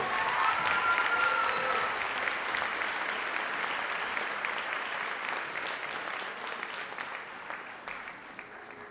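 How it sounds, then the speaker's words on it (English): Guests at a senior prom grand march applaud the court, a full crowd clapping loudly at first and gradually thinning and fading toward the end. "How about one more round of applause for the boys and girls court?"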